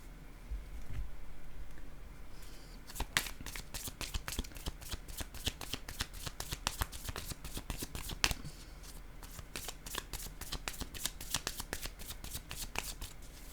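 Tarot cards being shuffled by hand, a long run of quick, crisp riffling slaps and flutters in an irregular rhythm, close and fairly soft, with no talking.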